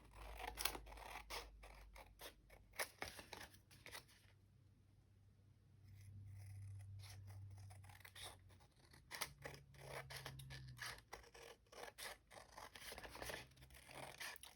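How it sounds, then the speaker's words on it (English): Scissors snip repeatedly around a paper image, quick close crisp cuts in uneven bursts with a brief pause in the middle, faint and alone. "And then I'm just going to use some scissors to cut around it."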